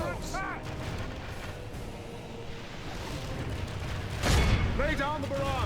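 Artillery barrage in a fantasy strategy video game battle, rumbling blasts and booms rolling under the din of combat, with a heavier thudding impact near the end and brief voice-like calls at the start and close.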